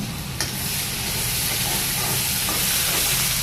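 A ginger, garlic and green chili mixture stirred in a hot pan for Surat-style aloo puri, giving a dense continuous sizzle with a sharp scrape near the start, close and fairly loud.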